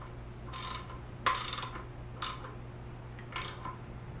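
Ratchet snugging a 10 millimeter bolt on a Royal Enfield fork, four quick clicking bursts with pauses between, close and fairly quiet.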